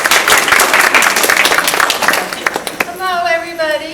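Warm round of applause from a group gathered at a firehouse talk, dense clapping for nearly three seconds before a voice begins speaking.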